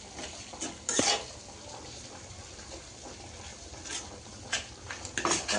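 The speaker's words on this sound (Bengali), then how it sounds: "এই যে মশলা কষাচ্ছি" Spices are stirred and fried in a metal kadai on a hot stove, with scraping, clattering spoon strikes in irregular bursts over a low sizzle.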